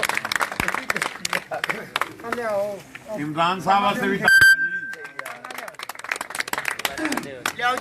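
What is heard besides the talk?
audience applause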